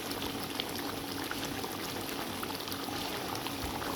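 Chicken curry simmers with cream stirred in, making a dense, soft, continuous bubbling close to the pot with no talk.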